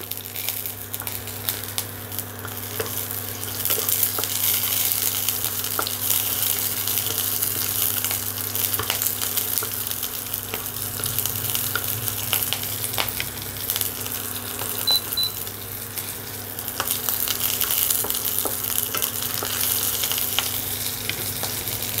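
Green chillies sizzle and fry in a pan, a steady dense crackling hiss close up that continues without pause, with faint stirring or scraping now and then.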